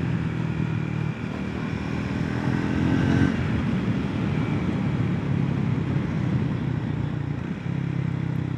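Riding a 2025 Triumph Speed 400 motorcycle: a steady, close engine drone holds beneath a constant rush of wind, with no talking.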